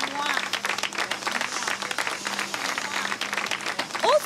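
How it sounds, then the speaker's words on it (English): An audience on a house-building reality show applauds with steady, sustained clapping from a group, continuous across the moment and fairly loud. "And for that, I'd like you guys to just give yourself a round of applause."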